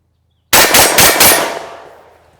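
A TriStar Viper G2 .410 bore semi-automatic shotgun fires four rounds in quick succession, loud and close, with the sharp blasts running together before a long echoing tail fades out.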